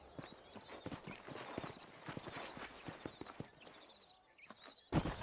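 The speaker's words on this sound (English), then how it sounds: "Well done, Mr. Marston. These are fine horses." Horses' hooves clip-clop in the Red Dead Redemption video game, a steady run of faint hoofbeats with a louder thump near the end.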